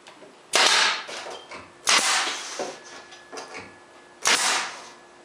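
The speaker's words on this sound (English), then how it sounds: "I will keep it in place with a couple 1-inch brads until the glue dries" A pneumatic brad nailer drives 1-inch brads into the back of a pine drawer, three sharp, loud snapping shots spaced about two seconds apart, each with a short echoing tail and faint handling noise between.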